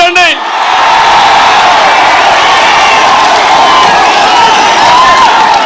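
A large crowd at a political speech breaks into a loud, sustained roar of clapping and cheering, dense and continuous at close range, with shouts mixed in.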